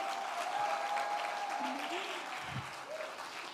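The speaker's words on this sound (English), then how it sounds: "Can you show me how excited you are by a round of applause?" Steady applause from an audience at an Ashesi University celebration, broad and even throughout, with a faint tone and a brief voice sound mixed in.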